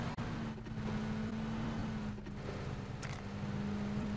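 A car engine in the PUBG video game drones steadily and close at a constant pitch, with a faint rumble under it and a brief sharp click partway through.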